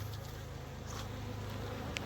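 Honey bees buzz in a steady, faint drone during a hive honey harvest, the agitated hum continuous and close without speech.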